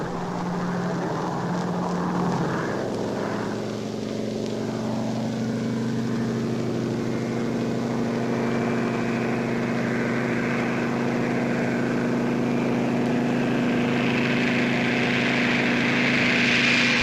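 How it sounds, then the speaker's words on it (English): A B-17 and a C-54 tow gliders overhead during Operation Market Garden, a continuous loud droning of piston engines and propellers whose pitch slowly shifts and rises as the aircraft pass, with no voices. "A B-17 in dual tow. A triple tow by a C-54."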